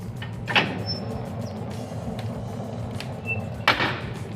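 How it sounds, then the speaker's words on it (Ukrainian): Lower metal door of a brick sauna stove being shut, two sharp clanks about three seconds apart over a steady low roar of draft from the burning firebox. "дверку нижню отак от прикрив"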